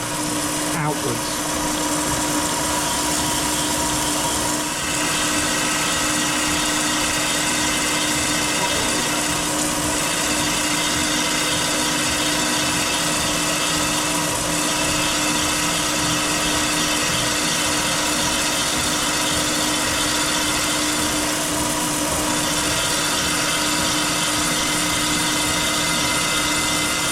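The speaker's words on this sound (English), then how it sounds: "I'm going to keep grinding from the corner or from the radius outwards." A machine grinds a valve seat in an air-cooled Porsche cylinder head, working from the corner outward, making a steady, continuous mechanical whir with a tonal hum that runs unbroken and fairly loud throughout, with faint talk underneath.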